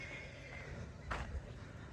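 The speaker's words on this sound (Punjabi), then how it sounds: "ਇਹ ਹੈ ਜੀ ਸਾਡੀ ਮੁਸ਼ਕੀ ਘੋੜੀ।" A black mare lets out one short, fairly close whinny partway through, rising briefly above a low, steady background.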